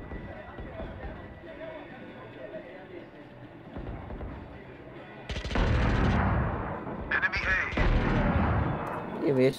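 Gunfire in an online shooter video game bursts out loudly in rapid clusters in the second half, with a player talking over the game audio before and during the shots.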